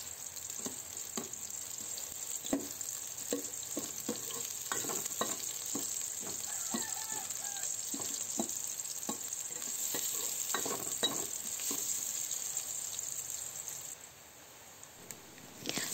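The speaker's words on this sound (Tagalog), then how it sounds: "Ilagay na rin natin ang hiniwang sibuyas. Lutuin lang natin yan hanggang sa maamoy natin ang bango ng sibuyas." Sliced onion sautés steadily in a pan for mung bean and pork stew, a continuous broadband sizzle broken by repeated scraping stirs spread through the clip, close and moderately loud, fading slightly at the end.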